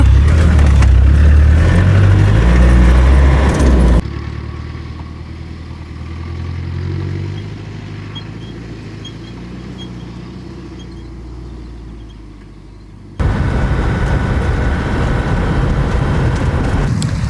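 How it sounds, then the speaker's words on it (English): A car climbing a snowy mountain pass toward Borjomi National Park in Georgia, its engine a steady low rumble with loud wind-buffeted stretches at the start and end and a quieter, smoother cabin drone in between. "So we started driving the mountain pass towards Borjomi National Park"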